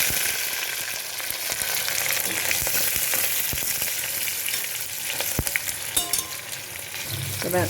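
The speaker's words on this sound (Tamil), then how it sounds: "ஸோ சோம்பு இதான பிறகு வெங்காயம் போட்டு வதக்கிடலாம்." Onions sautéing in hot oil with popped mustard seeds and fennel, a steady close sizzle with scattered crackles and occasional sharp pops, plus a few stirring clatters toward the end.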